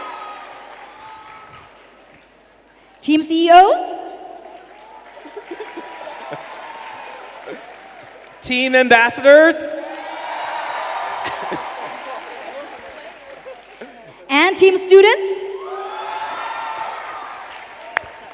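Audience teams at a closing plenary cheer and applaud in three loud bursts of clapping and whoops, with a host calling out between them.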